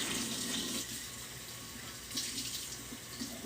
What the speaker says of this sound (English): making sure I get this really rinsed, all the colors, so they do not bleed